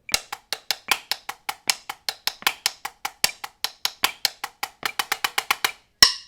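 Rapid, evenly spaced single-stroke seven drum rudiments, crisp and dry, run in short repeating groups, with a sharp isolated click of sticks near the end.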